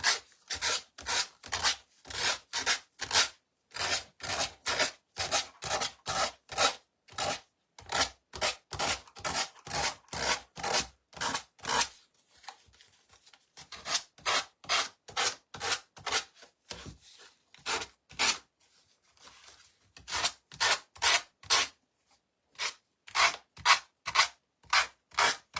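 A little sander works over small wooden stars and hearts in quick rhythmic bursts that repeat through the whole stretch, with short pauses now and then and no talking.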